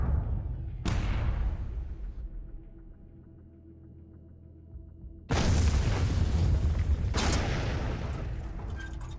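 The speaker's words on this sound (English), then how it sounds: "Artillery ready." Heavy artillery fire in the sci-fi train real-time strategy game Miners Mettle: a sharp booming blast, a quieter rumbling stretch, then two more loud, sustained detonations close by with no talk.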